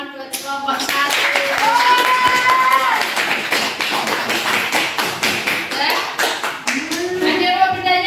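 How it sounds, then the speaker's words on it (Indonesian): A classroom of students claps together for a group, brisk and fairly loud at first with some tapping and thumps, then thinning out, as voices talk and call over the clapping. "Tepuk tangan buat kelompok"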